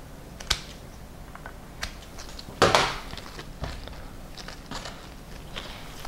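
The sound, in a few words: cutting side stems off salal leaf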